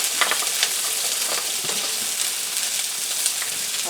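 Mushrooms stir-fried in a pan for a three-mushroom soup with pesto and ramen, a steady close sizzle with scattered spatula scrapes and stirring clatter throughout, no voices.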